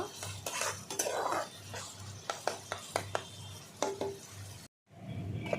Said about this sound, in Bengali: পেঁয়াজটাকে ভালো করে একটু কষিয়ে নিলাম